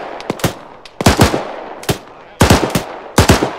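Gunfire in Arma 3, loud close shots in short bursts of two to four rounds with sharp echoing cracks and quieter distant shots between them, separated by brief pauses.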